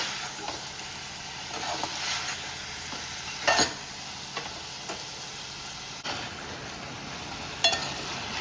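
Tam fish frying in a pan, a steady close sizzle with occasional sharp pops and scraping stirs rising above the constant hiss.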